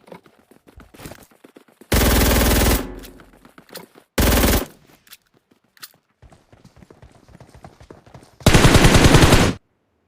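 MG3 machine gun fire in the BGMI battle royale game, with three long, loud sustained bursts separated by quieter stretches of scattered single shots and footsteps.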